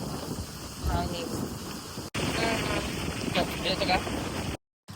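Wind blows across a beach campsite at night, gusting and rumbling against the microphone with a broad roaring wash, a brief dropout and faint voices mixed in.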